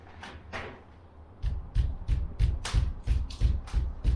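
Knocking on an old lath-and-plaster ceiling: a few soft taps, then a steady series of about ten sharp, fairly close knocks with a hollow, slightly rattling tone.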